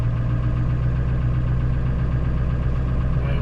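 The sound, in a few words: rig engine started and running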